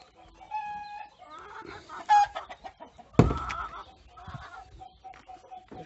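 Hens clucking and a rooster calling in a backyard flock, including a Marans hen, with repeated close clucks, one sharp squawk, and a crow-like call early on, over faint outdoor background.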